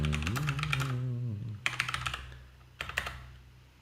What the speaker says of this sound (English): now I think I can start typing